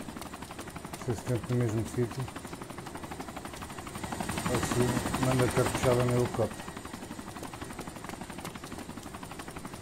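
A video game helicopter whirs and drones steadily under someone talking, swelling louder midway before easing back, with a constant rotor-like hum throughout.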